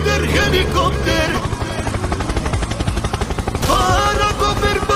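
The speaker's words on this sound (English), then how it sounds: "Helicopter, helicopter!" A helicopter's rotor thumps and whirs loudly and steadily in the game Stickman Dismounting, mixed with music and game effects, with bursts of gunfire through the middle.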